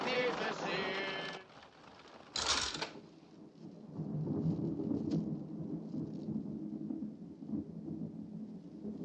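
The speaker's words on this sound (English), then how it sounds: "Storm's passing now" Thunder rolls from a passing storm: a sharp crack is followed by a long, low, rumbling swell that lingers and fades, with rain hissing throughout and faint voices early on.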